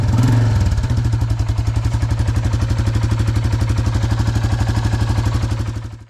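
A Royal Enfield Classic 350 single-cylinder engine runs close by with freshly adjusted valve clearances, a steady loud even thump with fine ticking on top, holding the same pace throughout before cutting off at the very end.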